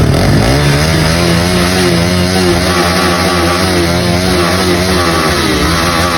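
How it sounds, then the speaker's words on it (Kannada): Motorcycle engine revving hard during a bike ride, a loud, continuous close-up roar with rising and falling pitch and no talk. "ಗಾಡಿ ಸೌಂಡ್ ನೋಡ್ರಿ ಹೆಂಗೈತಿ"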